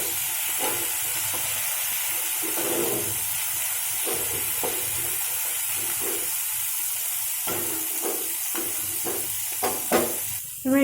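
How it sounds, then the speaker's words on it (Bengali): Chopped tomato being stirred into frying masala macaroni, a continuous sizzle and hiss broken by spatula scrapes and stirring clatter, with a louder knock at the very end. "দিয়ে এবার এটাও একটু ভালো করে নাড়াচাড়া করে নিতে হবে।"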